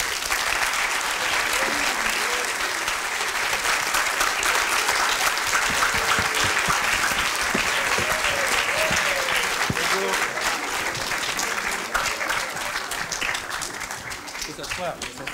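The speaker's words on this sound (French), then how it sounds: "Je vous demande d'accueillir et d'applaudir très très fort Monsieur Jean-Jacques Hano." A seated audience welcomes film director Jean-Jacques Hano with long, vigorous applause, dense and loud, while some voices and murmurs rise beneath it before it gradually thins toward the end.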